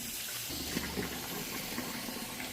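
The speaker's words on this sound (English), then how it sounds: "So now we're going to fill it up with water." Water pours steadily into a bottle being filled for homemade mosquito repellent, a continuous close gushing and trickling that runs the full length without talk.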